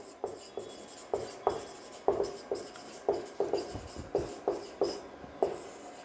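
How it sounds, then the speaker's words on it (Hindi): Chalk or marker strokes on a board during a chemistry lecture tap and scrape in quick, separate bursts, a dozen or so distinct strokes at an uneven handwriting rhythm, close and clear with no talking over them. "तो यहां लिख देता हूं मैं"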